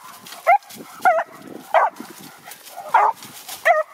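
A hunting dog chasing a hare through oak brush gives five sharp, yelping barks spaced about half a second to a second apart, heard fairly close over faint rustling in the background.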